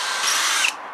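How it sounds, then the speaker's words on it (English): Power drill pre-drilling a hole into a wooden garden post, a single steady high whine of about three-quarters of a second that cuts off abruptly, close and loud, with no talk. "I've got to pre-drill this hole"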